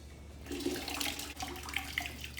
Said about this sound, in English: Now we need to add water.